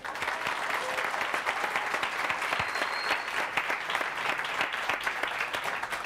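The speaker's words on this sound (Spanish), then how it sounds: "primero el aplauso, por favor" Sustained applause from an audience at a live interview broadcast at Hacienda Santa Bárbara, dense steady clapping filling the whole stretch with no break.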